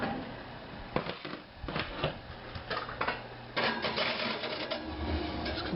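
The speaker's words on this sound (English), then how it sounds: "Just going to position it right in the middle of the oven, and I close it" A glass baking dish slides onto a rack in an oven preheated to 400 degrees, with scraping, clinking knocks, and then the oven door thuds shut, all close by with no talking.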